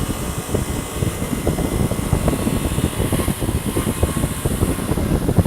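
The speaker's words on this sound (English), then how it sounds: "A wide wheel puts, you know, a little more pressure on the motor, so we're just going to work it back and forth and clean it up." A motor-driven wide buffing wheel whirs steadily while cleaning a Sidney lathe compound part, with a dense rumbling drone and fluctuating grinding texture as the piece is worked back and forth, close and continuous, no speech.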